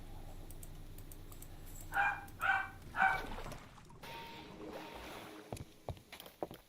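Three sharp dog barks come in quick succession around the middle, moderately close. Quieter tapping and clicking follow against a low background hum.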